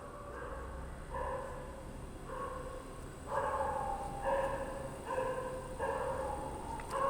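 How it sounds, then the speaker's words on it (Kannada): A dog barks outdoors in a series of short bursts, heard at a distance through an open window, about seven barks spread evenly over several seconds against faint background hiss. "ಒಂದು ನಾಯಿ ಬೊಗಳ್ತಿದೆ"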